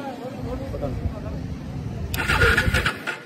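A Bajaj Dominar 400 motorcycle with a dead battery is cranked on a roadside, giving a steady, struggling engine churn that swells louder and rougher in the last second, with people talking nearby.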